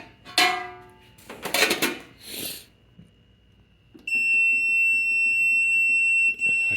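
An electronic beeper on a repaired Robbins and Myers fan sounds a steady, piercing high tone for the last few seconds, after a few clattering knocks and a brief hum, with the running fan faint underneath.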